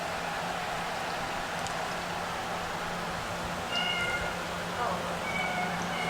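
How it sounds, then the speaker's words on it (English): A cat meows in a scene from the Godzilla vs Hedorah movie, heard as a couple of short cries late in the clip over a steady rain-like hiss and background noise. "So it leaves a cat behind"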